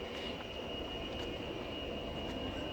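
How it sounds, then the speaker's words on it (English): A metro train at a distance gives a steady, low rumble with a faint high tone, continuous throughout with no voices. "there's the metro over there"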